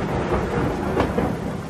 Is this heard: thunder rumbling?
yes